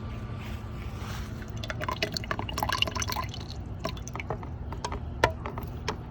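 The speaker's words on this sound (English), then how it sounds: "that dripping noise" Wet paper pulp poured into a can drips and patters in a quick irregular series of small droplets, close by over a low steady hum, with no talking.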